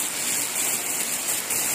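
Heavy rain driven by strong wind makes a dense, steady hiss and rush, loud and unbroken across the clip with no voices.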